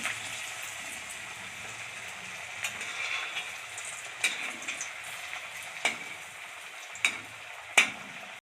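Fritters made with papaya crackle and fizz in hot oil, a soft continuous sizzle broken by several sharp clicks and taps spaced a second or so apart.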